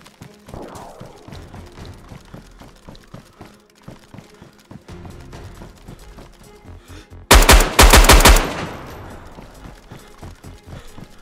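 Gunfire in the video game DayZ: scattered footstep-like thuds and single shots lead into a loud, rapid automatic burst of about a second, then quieter movement sounds follow.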